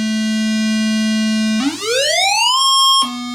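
Single oscillator on a Moog Sonic Six synthesizer holds a steady buzzy tone, then its pitch sweeps smoothly upward as the contour generator's attack rises, settling at a high sustained pitch before snapping back to the original low note.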